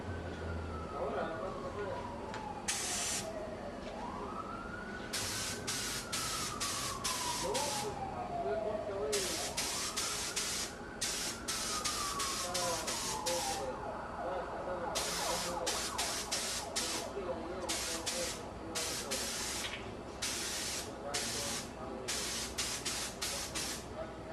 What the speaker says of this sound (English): we've gauged our 15 to 20 pounds in the high volume, low pressure gun, and now we'll spray